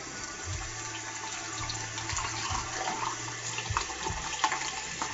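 A bathroom tap runs while water heats up for wet shaving, a steady splashing gush into the sink with gurgling low-end surges, close and continuous with no talking.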